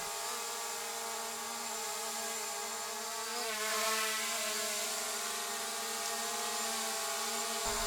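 Ruko F11GIM2 drone motors spinning up for takeoff, a steady close whine of many stacked harmonic tones that wavers and rises slightly midway, continuous and alone throughout.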